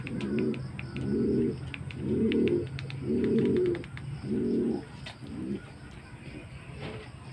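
Pigeons coo in a steady series of about six low, throaty phrases, close by, with faint chirps and clicks scattered behind them and no talk.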